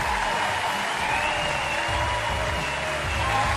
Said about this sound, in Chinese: 掌声送给我们的老将